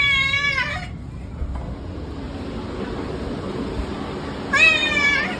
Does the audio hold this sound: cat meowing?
yes